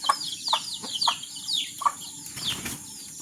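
A hen with chicks clucks and chirps close by in quick, overlapping calls, with high peeping and some wing flapping, no talking.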